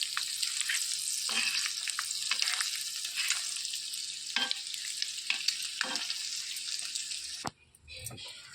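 Eggs roasting in a pan for Telugu-style egg pepper roast, a steady frying sizzle with occasional stirring and scraping, close and moderately loud, then briefly quieter near the end.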